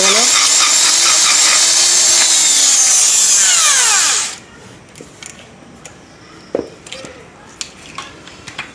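A power drill with a freshly sharpened bit bores a hole through a metal pipe: a loud, steady high whine that winds down and stops partway through, followed by quiet scattered clicks and handling knocks.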